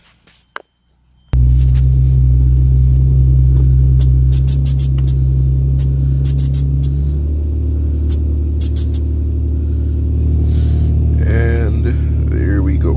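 A Nissan 350Z fitted with a carbon fiber hood starts up and idles with a loud, steady low exhaust drone after a few small clicks, the engine note dropping slightly partway through, with faint squeaks near the end.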